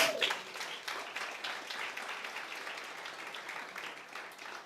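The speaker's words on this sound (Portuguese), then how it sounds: "Diga amém e dê um aplauso a Jesus." Congregation clapping and applauding during a church worship service, a dense steady wash of many hands that starts loud and settles into sustained applause with no voices standing out.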